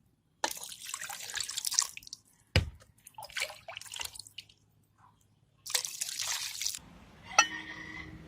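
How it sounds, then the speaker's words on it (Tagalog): Water poured into a casserole holding a banana heart, splashing and trickling in bursts with short pauses, close and moderately loud, ending in a few drips. "Add water. Make it sure that the water covers over the banana heart."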